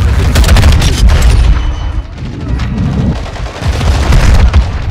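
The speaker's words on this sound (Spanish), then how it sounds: "¡Qué explotó esa bebé!" In Call of Duty: Modern Warfare II, a deep booming explosion rolls out amid rapid gunfire, loud and dense, fading briefly before more blasts and shots return.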